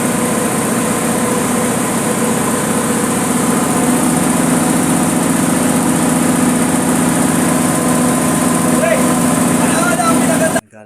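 A 150 kVA, 220-volt three-phase generator runs steadily with a loud, constant engine drone and hum that holds unchanged for about ten seconds before cutting off abruptly at the end.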